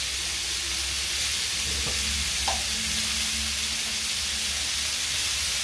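Spices for chicken moghlai sizzle and hiss steadily in a hot pan while being stirred, with a few faint scrapes of the spoon over the continuous frying noise.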